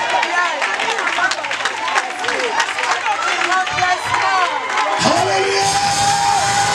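A church congregation at a pastor's service cheers and acclaims loudly: a dense crowd roar with whoops and shouted voices, sustained and close for the whole stretch.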